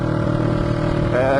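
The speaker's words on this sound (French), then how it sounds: "C'est une moto qui a 40 ans." A 40-year-old Honda CB twin motorcycle runs steadily while riding, its engine giving a close, continuous drone that rises slightly in pitch near the end.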